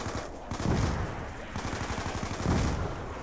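Gunfire from weapons in Call of Duty Black Ops II Zombies, rapid automatic bursts of close shots in quick succession, loud and dense.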